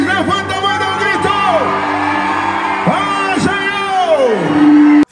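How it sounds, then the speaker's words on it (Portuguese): A crowd of children at a shopping mall event in Feira de Santana shouts and whoops in sustained rising and falling cries, loud and close, ending abruptly. "Quem tá feliz, levanta a mão e dá um grito!"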